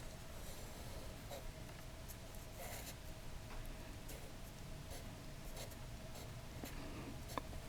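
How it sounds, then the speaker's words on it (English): Pen or marker strokes drawing a beach scene on paper during a vintage Austin Powers Pictionary board game, a faint, steady scratchy scribbling with short tapping marks, close and quiet with no talking. "So you would draw a beach, which should be like this."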